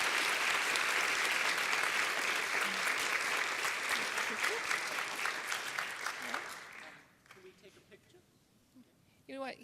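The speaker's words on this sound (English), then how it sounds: "another applause." An audience at an integrative medicine forum gives a sustained round of applause that fades after about seven seconds, leaving a quiet room with a brief voice near the end.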